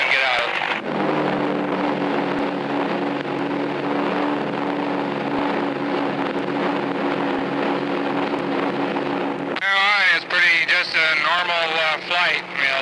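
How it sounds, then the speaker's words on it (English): A smuggling aircraft's engine in 1972 starts up and settles into a steady, loud droning hum that runs for several seconds. A voice is then heard talking over the running engine. "we'll start the engine and get out of it."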